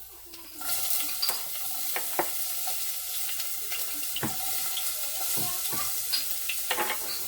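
Bell peppers go into a pan with a little olive oil and sizzle, with a steady hiss broken by scattered clinks and scrapes of stirring that sound close and moderately loud.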